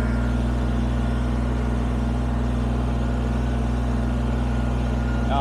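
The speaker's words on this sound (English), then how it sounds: "I'm gonna take the front end loader and I'm going to push" A Kubota BX23S sub-compact tractor runs steadily close by while pushing dirt with its front loader, its diesel engine holding a constant low hum with no pauses and no one talking.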